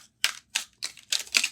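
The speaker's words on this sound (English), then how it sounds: "let's go ahead and try to shuffle these and see if we can actually shuffle them" Plastic tarot cards being shuffled by hand, with five short, crisp clicking snaps spaced unevenly and heard close with no talking.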